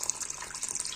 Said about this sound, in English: So I'm going to fill the rest of the bowl with water.